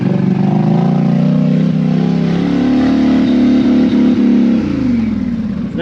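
A Polaris Sportsman 850 ATV engine revs hard through deep mud at Busco Beach, a loud, close, sustained drone whose pitch climbs and then sags near the end.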